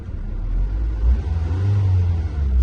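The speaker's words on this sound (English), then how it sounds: "The engine sounds decent" A Honda Accord's car engine runs at a salvage auction, a close, loud low rumble that swells as it revs briefly, with no talking over it.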